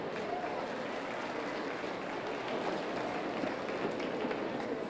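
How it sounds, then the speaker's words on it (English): Steady broadband clapping from an audience at a youth fair market hog show, sustained and even throughout with no voices standing out. "Give these kids a round of applause."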